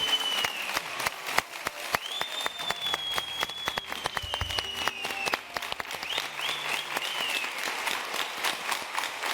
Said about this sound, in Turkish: Ve ben bütün öğretmenlerimizi ayakta alkışlıyorum